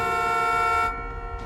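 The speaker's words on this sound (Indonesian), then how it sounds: "Tanpa sengaja salah satu anggota Jong Seok menekan klakson truk menimbulkan bunyi yang sangat kencang." A loud, sustained truck horn blast that holds steady for about a second, then cuts off abruptly.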